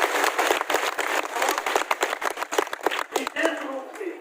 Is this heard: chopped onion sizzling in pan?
no